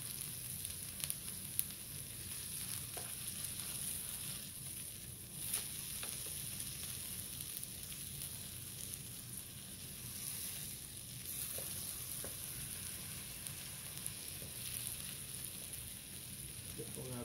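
Smash burgers sizzle steadily on a flat griddle after being flipped, a dense, even frying hiss that runs close and constant throughout with only faint clinks and no talk over it.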